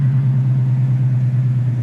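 A 1967 Ford Mustang coupe engine rumbles steadily while driving, a loud, low, continuous drone that holds an even pitch with slight wavering throughout, close and alone with no voices.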